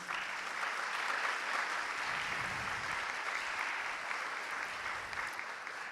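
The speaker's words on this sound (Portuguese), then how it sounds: "uma salva de palmas." A lecture-hall audience applauds steadily for a university historian acting as moderator, the dense, even clapping sustained across the whole stretch at a moderate, somewhat distant level.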